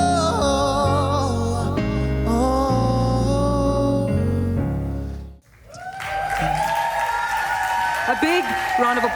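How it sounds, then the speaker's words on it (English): Applause from an awards-broadcast audience after a sung performance, breaking out once the music stops halfway through and continuing steadily under an announcer's voice. "round of applause"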